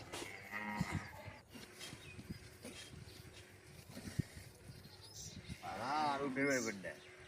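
A cow tied firmly to a tree moos several times, the calls rising loudest near the end, with other voices and outdoor farmyard sounds around it.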